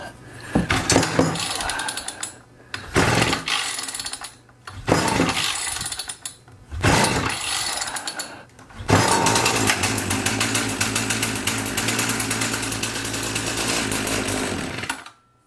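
A Troy-Bilt tiller's small engine is pull-started with several rough, sputtering cranking bursts, then catches and runs steadily at a loud, buzzing, even idle close by before cutting off.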